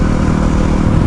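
Yamaha WR250R 250cc motorcycle engine running loudly and steadily at close range on a ride toward the beach, a continuous mid-pitched drone with wind roar and no pauses.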